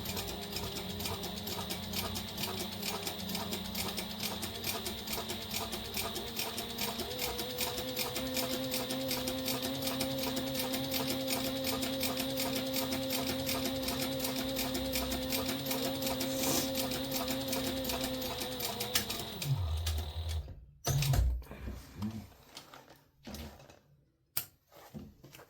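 Sewing machine running steadily for about twenty seconds while back stitching a zipper pouch, a constant close mechanical whir with a rhythmic needle clatter, then stopping abruptly, followed by a few quieter handling clicks and rustles.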